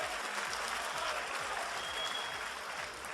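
The crowd at a League of Legends cosplay contest winter final claps steadily, a continuous round of applause heard from within a large hall.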